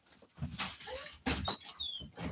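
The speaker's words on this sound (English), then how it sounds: "Hold on, I gotta let my dogs back out." Dogs stir and whimper at a door as they are let back outside, with short bursts of whining, scuffling and movement close by, no talking.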